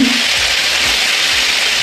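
Cumin and ginger paste sizzles steadily in a hot frying pan, a loud, dense, continuous crackling hiss that fills the short stretch, with no voices.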